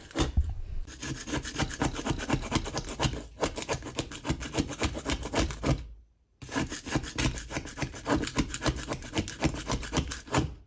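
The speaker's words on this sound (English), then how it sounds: "I'm only actually applying pressure in the forward direction and being careful not to tilt the razor to the side or move it side to side." A razor blade scrapes grime off a glass stove top in rapid, rhythmic rasping strokes, close and steady, with a brief pause near the start and a full stop of under a second before the scraping resumes.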